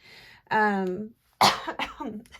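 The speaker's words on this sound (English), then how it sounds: "I'm doing my best not to cough" A person makes a drawn-out throaty sound, then gives a sharp, harsh cough, followed by a few ragged breaths close to the mic.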